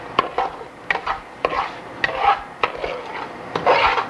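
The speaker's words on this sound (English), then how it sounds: "you have to keep stirring the cream of wheat, otherwise it will stick at the bottom" A spoon stirs cream of wheat in hot ghee in a pan, a steady rhythm of about eight scraping strokes against the metal, close and clear with no talk.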